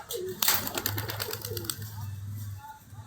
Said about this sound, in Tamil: ஸோ அதுதான் பழைய புறாக்கள்